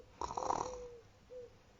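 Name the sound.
snoring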